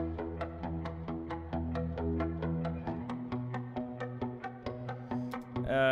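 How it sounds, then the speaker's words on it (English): A short pop-production bridge guitar part plays as steady rhythmic plucked notes over soft chords, a quiet, even pattern with no voices. "our little bridge guitar sounds like this"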